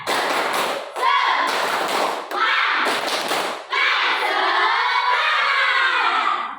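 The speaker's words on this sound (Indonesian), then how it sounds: "1, 2, 3, tepuk semangat" A school class claps together in a rhythmic 'tepuk semangat' cheer, loud bursts of group clapping in several patterned phrases with voices mixed in.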